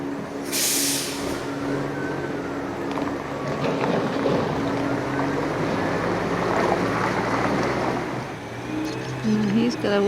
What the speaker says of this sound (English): this is just a ferry crossing over to the other side